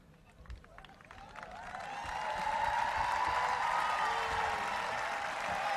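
A graduation audience at Shawnee High School's 2017 ceremony breaks into applause that swells from a quiet start into a full, sustained roar of clapping and cheering, with faint voices beneath.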